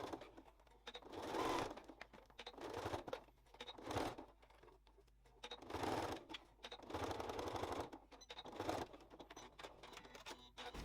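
A sewing machine stitches a curved zip wallet in several close bursts of rapid mechanical whirring, separated by short pauses and faint handling noises.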